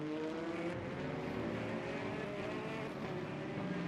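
Corvette and Ferrari race cars in a sim racing game at Bahrain, their engines droning steadily and loudly with rising tonal whine throughout, no voices.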